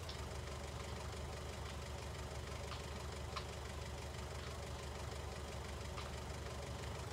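Tractor engine in Farming Simulator 19 at night, a faint, steady low idle drone with a few light clicks over it.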